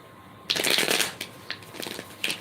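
Cards riffle-shuffled nearby in a soft, rapid flutter, then a few lighter taps and settling clicks as the deck is squared.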